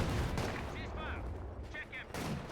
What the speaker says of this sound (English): Lucky barrage here from NiteNite